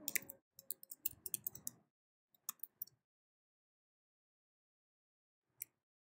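Keys tapped on a computer keyboard to enter a new password, a quick burst of light clicks followed by a few scattered taps and one final isolated press after a pause.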